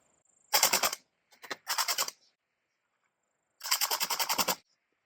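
Bursts of suppressed rifle fire through a Siege ROC 556 suppressor crack out nearby in three rapid strings of several shots each, separated by short silences.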